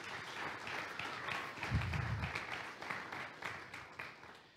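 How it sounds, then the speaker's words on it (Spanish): Congregation applause in a church service, faint, scattered clapping heard from a distance with a brief low rumble partway through, fading unevenly toward the end. "Denle un aplauso al Señor."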